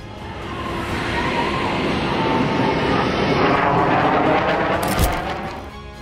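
An F-16 fighter jet with a single Pratt & Whitney F-100 engine flying past, a loud broad roar that builds, holds and fades over several seconds, with a sharp burst near the end.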